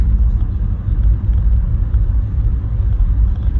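A car drives along toward a house with a loud, steady low engine and road rumble filling the interior, continuous and close, with no talking.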